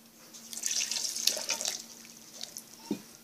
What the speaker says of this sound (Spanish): Voy a agregar agua.